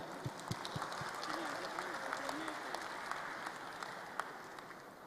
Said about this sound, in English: please join us to give big applause to Al-Mukarram K. Yahya